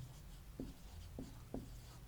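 A pen writes an answer on paper during a Hindi class 10 physics lesson, giving three short, soft scratching strokes over a steady low hum, close and quiet with no talking.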